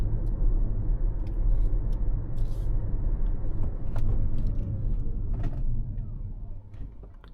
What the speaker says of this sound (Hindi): I'll just now accelerate to 70 and brake hard on this patch.